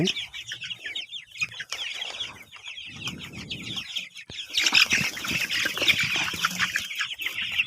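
A flock of twenty-day-old Tiger chicken chicks cheeps continuously while being weighed on a farm, high busy chirping that swells louder midway, with wing flaps and handling noises mixed in.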